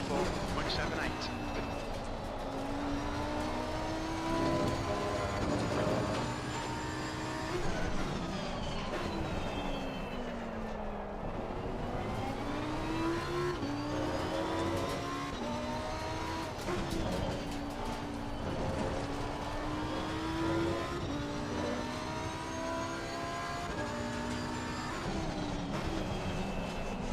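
Lamborghini race car engine at Brands Hatch in a racing video game, a loud continuous engine note rising and falling through gear changes, with a person talking over it.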